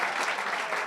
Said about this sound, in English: Round of applause to Max.